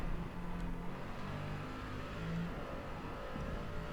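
A Dodge Viper racing a multiplayer lap in Forza gives a steady, fairly faint engine drone with shifting pitch as it runs through gears, continuous throughout with no talking.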